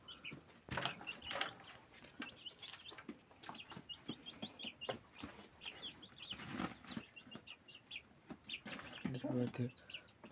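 Young chickens around two and a half months old clucking and cheeping on a farm, faint scattered calls with wing flaps and brief rustling, some distant voices and handling noise.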